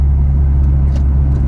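A car passes on a hill road, its low engine rumble and tyre roar steady and loud from start to finish, with no voices.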